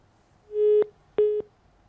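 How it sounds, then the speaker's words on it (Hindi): Phone line dropping during a live TV call-in show: two loud electronic busy tones sound close together, the second shorter, each ending in a faint click, then quiet. "ओहो, संपर्क हमारा अमरीश जी से टूट गया है।"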